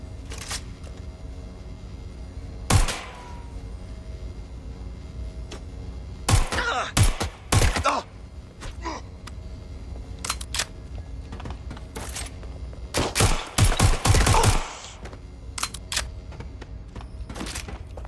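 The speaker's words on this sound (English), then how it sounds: "Taking fire!" Sharp bursts of gunfire in Watch Dogs: Legion break through a steady game ambience, with single cracks and clustered volleys of close, punchy shots spaced irregularly across the stretch.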